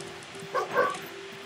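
A dog in the video game Fable 2 gives two short, close yips over a steady electronic hum, each one brief and fairly loud.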